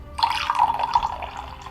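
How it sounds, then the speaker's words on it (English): Water is poured off gallium metal in a short, close, splashing trickle lasting a second or so. "Pour off some of the water."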